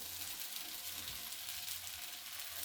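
Potatoes and peanuts frying in a pan, a steady broadband sizzle with a soft low rumble, continuous and close, with no talking.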